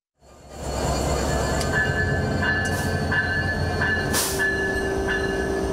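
A special agricultural goods train bound from Rohanpur, Chapainawabganj, to Dhaka rumbles past loudly and close, a steady heavy roll with wheel squeals and clanks.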